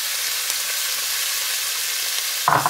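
Peppers, onions and spring onions stir-fry in a hot wok with oil for Thai basil pork, a dense, loud sizzle throughout, ending in a brief clattering stir.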